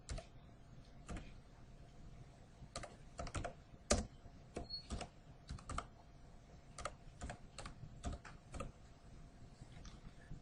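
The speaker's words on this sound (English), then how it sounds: "So you'd want to type in Butler Buildings." Keys clatter on a computer keyboard in a quiet room, an irregular run of close, crisp taps with short pauses between bursts.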